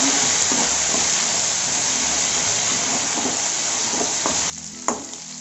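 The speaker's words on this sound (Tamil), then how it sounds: "நல்லா பொரிஞ்சிச்சு, சவுந்துச்சு இஞ்சி பூண்டு பேஸ்ட்டு" Ginger garlic paste sizzles loudly and steadily in hot oil in a pan, a dense close crackle with faint stirring scrapes, cut short near the end to a quieter hiss with one brief clack.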